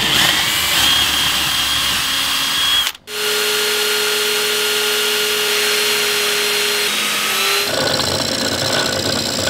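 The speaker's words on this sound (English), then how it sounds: "using the sander and this time a lathe to achieve another near perfect circle" A sander and then a wood lathe shape a wooden disc into a near-perfect circle: a steady, loud power-tool whine with a sharp break near three seconds, then a shift in pitch toward the end.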